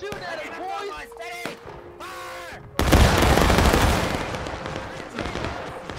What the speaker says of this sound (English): God damn, we volleyed at each other.